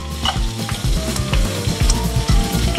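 Rosemary sautéing in a wok, a loud, close sizzle broken by repeated rhythmic scrapes and clanks of a utensil against the metal, with no voices.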